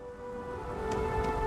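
Steady rain falls over a city in Starfield, a continuous soft hiss of drops on hard surfaces with a faint low rumble beneath, even and unbroken throughout.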